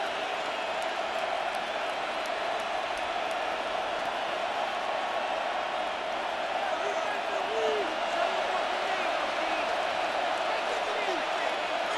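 A steady, unbroken roar from a stadium crowd in Madden NFL 26 during a 49ers versus Bears game, a constant wash of noise with faint voices blended in.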